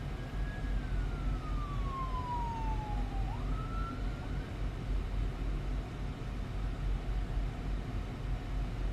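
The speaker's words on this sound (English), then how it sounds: "the instant emergency vehicle sirens can be heard." A distant siren wails once, its pitch sliding downward then rising briefly, over a steady roar of traffic noise.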